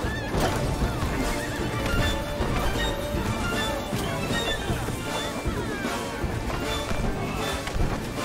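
Loud horse neighing and whinnying with clopping hooves in the video game It Takes Two, dense and busy, layered over a rumbling backdrop of noise.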